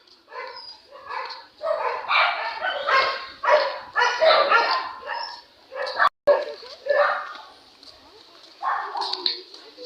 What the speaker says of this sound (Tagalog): may mga aso ding gumagala sa park